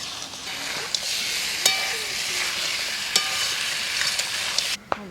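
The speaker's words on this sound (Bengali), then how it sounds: "মাংস দিয়ে একটু নেড়ে ছেড়ে নিলাম এবার আস্তে আস্তে জালে মাংসটা ঢেকে ঢেকে কষিয়ে নেব" Duck meat fries and is stirred in a pan at an outdoor village picnic in the forest on a cold day. A steady sizzle runs throughout, with scattered sharp clinks and scrapes from the stirring utensil.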